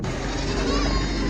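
Lambs and sheep bleat at the Mashtaga sheep, goat and cattle market in Azerbaijan, a brief animal call rising over a dense, steady murmur of crowd and yard noise.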